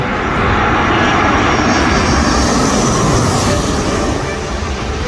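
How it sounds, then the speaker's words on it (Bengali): A loud, roaring jet engine fills the air as an airplane passes low and close overhead at Uttara, Dhaka, a steady broadband rush that swells and slowly fades. "আরেকটি বিমান ছুটে আসছে"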